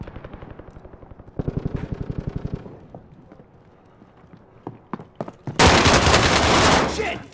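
Call of Duty Modern Warfare combat, a steady rhythmic rotor-like thrum giving way to scattered shots and then a loud, dense burst of rapid automatic gunfire, close and intense.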